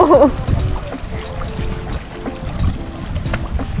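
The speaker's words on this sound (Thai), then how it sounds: "วันนี้ลมแรงนะคะน้ำกระเซ็น" Strong wind buffets the microphone outdoors beside water, with choppy splashing and a rumbling gusty roar throughout and no speech.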